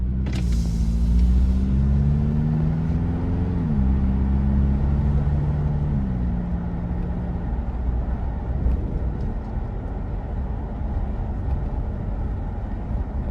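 An off-road truck fitted with a SXTH Element trail exhaust cruises with the window down, giving a low, steady engine drone and rumble under wind and road noise, without speech.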